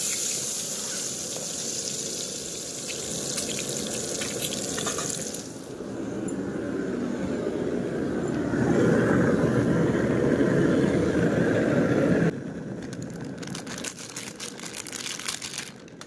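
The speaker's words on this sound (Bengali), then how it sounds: "স্টোভের আওয়াজটা পাচ্ছ," A kitchen stove burns with a steady roaring whoosh, rising louder midway, at close range in a home kitchen, amid water running and brief rustling.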